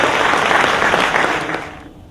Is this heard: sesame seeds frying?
no